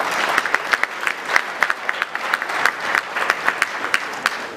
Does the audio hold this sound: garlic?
no